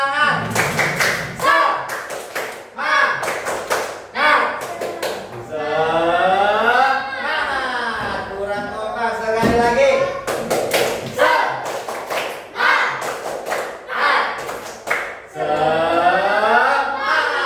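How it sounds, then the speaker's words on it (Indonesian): A class of students standing in their classroom perform a rhythmic spirit clap, with sharp claps and taps in steady patterns under loud group chanting and voices throughout. "Kita tepuk semangat."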